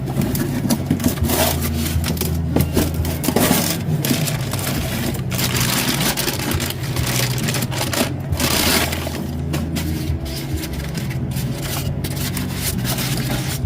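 A new brake spindle for a 1965 Chevelle disc brake conversion is pulled from its wrapping and box, with close crinkling, rustling and bumping of packing material in uneven bursts throughout.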